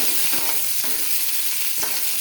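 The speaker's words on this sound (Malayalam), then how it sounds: "കടുക് വറക്കാൻ ഉള്ളി അരിഞ്ഞത് ഇട്ട് കൊടുത്തു." Chopped onion and mustard seeds frying in oil make a loud, close, continuous sizzle with several scraping stirring strokes through it, and nobody speaks.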